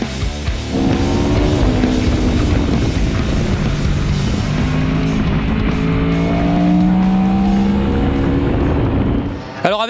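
Cars lapping a race circuit at a track day, engines droning loudly and continuously with rising and falling revs and passing tones, close and steady throughout.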